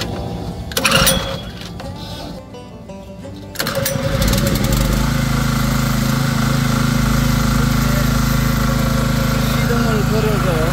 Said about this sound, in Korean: 지금은 다시 시동을 걸어 보도록 하겠습니다.